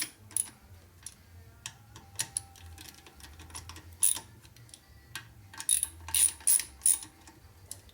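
Quiet, quick ratchet clicks come in short bursts as a wrench tightens bolts on the case of a 1990s Evo Sportster 90ci big-bore motorcycle engine, with soft metallic knocks between them.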